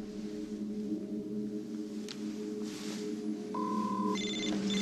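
A telephone rings with a steady electronic tone after the last-dialed number is redialed. The ring comes through clearly over a low background hum, with a higher-pitched burst near the end.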